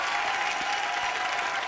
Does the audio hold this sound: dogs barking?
no